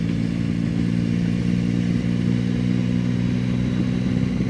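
A group of bikers' motorcycles idle and rumble nearby, a steady low engine drone with faint clatter throughout and no clear revving peaks, with no one talking.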